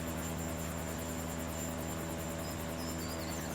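A helicopter in the rally game Dakar 18 gives off a loud, continuous rotor drone with steady rhythmic blade chop and engine whine, droning on throughout with no talk.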